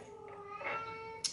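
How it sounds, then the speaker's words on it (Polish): A cat gives a short, clear meow up close, a single drawn-out demanding call for food, ending with a faint click. "wszystkie kotki już dostały jeść. Tylko domagają się teraz nie wiem czego"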